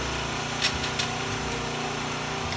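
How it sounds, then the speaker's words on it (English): A food processor grinds powdered milk into a finer powder for a hot cocoa mix, a loud steady motor whir that runs unbroken throughout, with a couple of faint clicks near the start. "processing this powdered milk into a finer powder"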